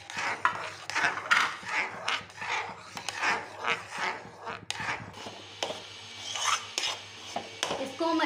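Semolina is stirred into water in a cooking pot while making Odisha-style kakra pitha. A spoon scrapes and rasps in steady, repeated strokes, close and fairly quiet, with no talking.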